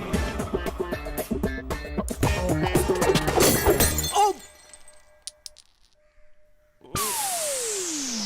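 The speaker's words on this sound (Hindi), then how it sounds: "कॉफी का कप टूट गया" A coffee cup breaks with a sharp shattering crash amid loud film music and sound effects, in a scene from an Indian movie.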